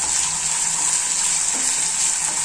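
Salted, finely chopped potatoes fry in oil in a pan with a steady, close, hissing sizzle while they are mixed, and a faint scrape comes through near the end.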